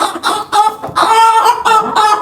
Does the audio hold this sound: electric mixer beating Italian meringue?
no